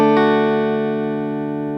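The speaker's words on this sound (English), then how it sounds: "You strum all 4 strings separately." An acoustic guitar chord is played with the strings sounded one after another. Two quick plucks come at the start, and the notes then ring out together and slowly fade, clear and close with no voices.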